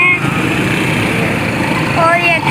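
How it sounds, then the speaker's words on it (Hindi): Bazaar street traffic with motorcycles, rickshaws and cars hums and buzzes continuously nearby, with small engines revving and a horn-like tone near the end, under a steady wash of street noise. "देखें काफ़ी सारे बाइक्स और रिक्शे और गाड़ियाँ हैं"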